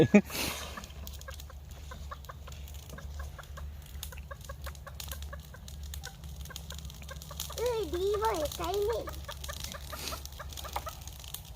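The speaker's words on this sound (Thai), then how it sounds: "ไปจับไก่ไก่ ไปจับไก่" Chickens on a rural Thai riverside farm cluck and call intermittently, with one bird's wavering cry rising clearly midway, over a steady low background hum and faint distant sounds.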